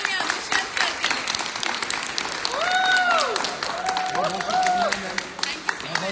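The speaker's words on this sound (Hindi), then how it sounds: "जोरदार तालियां दुष्यंत सर के लिए।" An audience claps to welcome a guest speaker at an event, sustained applause while a loud voice calls over it with drawn-out, sung-sounding tones.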